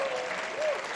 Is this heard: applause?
yes